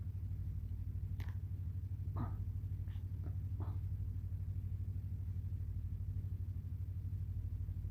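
Employee cars roll past at a nickel mine, a steady low engine rumble with a faint passing swell, distant and muffled, with no talk over it.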